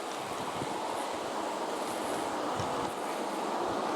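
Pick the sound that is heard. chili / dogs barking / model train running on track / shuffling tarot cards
model train running on track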